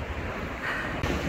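Sea waves wash onto the shore at Alanya in winter, a continuous close rush of surf heavily mixed with gusty wind buffeting the microphone, no voices.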